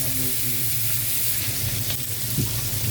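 Tomatoes sizzling as they fry in a pan for pakbet, a continuous close hiss and crackle under a low background hum, with no talking.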